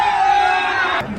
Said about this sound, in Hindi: भीड़ उमड़ पड़ी है।